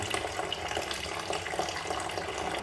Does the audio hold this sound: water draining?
yes